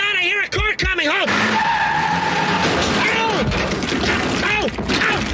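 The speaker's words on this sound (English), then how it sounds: "Oh, my God, I hear a car coming." Sound-effect car rushing close and skidding hard, a loud broadband tire screech and rumble filling most of the clip after brief, warbling cartoonish vocal sounds at the start.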